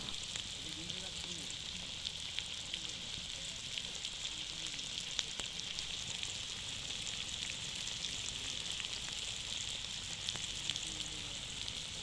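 Fish marinated in tamarind frying in a pan, a steady, soft, continuous sizzle with faint crackles throughout, and no clear voices.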